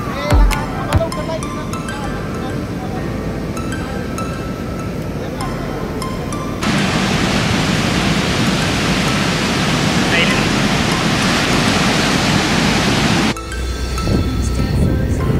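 Sea waves at Gokarna beach, a loud, continuous wash of surf heard close by with gusts of wind on the microphone, swelling louder midway, with faint clinks and voices in the background.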